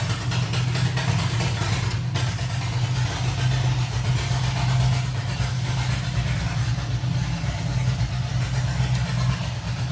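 A tractor engine runs steadily nearby, a loud, continuous low chugging drone that holds at an even pitch throughout.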